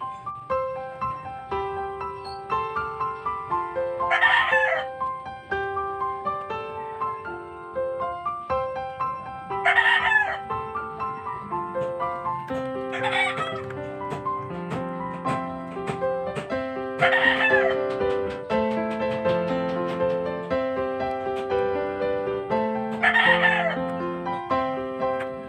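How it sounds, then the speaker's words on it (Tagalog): A rooster crows about five times at regular intervals over roughly 25 seconds, each call loud and clear above a steady tonal background hum. "may manok pa eh."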